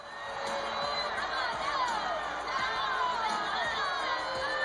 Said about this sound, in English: Oh, the girls are booing.